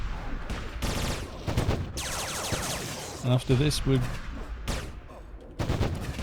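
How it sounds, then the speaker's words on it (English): Constant crackling gunfire from players shooting during a raid in Anarchy Online, with overlapping bursts and sharp reports under a voice speaking briefly. "You can hear me over everybody shooting."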